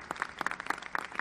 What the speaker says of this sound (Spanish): Desde aquí un aplauso a Fidel Castro, compañero, presidente